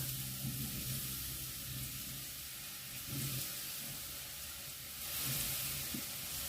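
Eggplant cubes frying in a pan, a continuous sizzle and hiss with soft stirring scrapes now and then.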